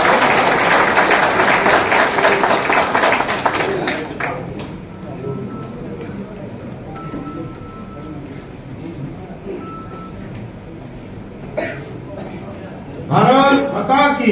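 Applause from a crowd at a BJP political joining event, loud and dense at first, then fading to scattered clapping with background chatter and a brief burst of talk near the end.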